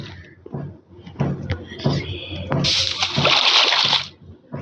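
A boat splashing through water in a multiplayer village-exploring game, with soft sloshes building to a sustained loud splash near the end, under players talking.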